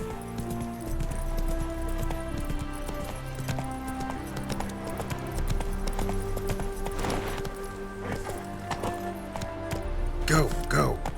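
Roach the horse gallops in The Witcher 3, a steady run of clip-clop hoofbeats under continuous music and game sounds, with a voice speaking over it.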